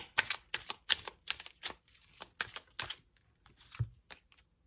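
Tarot cards are shuffled up close in a quick series of crisp riffling bursts, with short pauses and a soft thump near the end.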